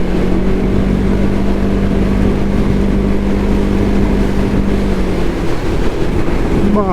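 A Can-Am Ryker three-wheeler rides along a road in southern France, its engine a loud, steady droning hum mixed with rumbling road and wind noise throughout, heard from on board.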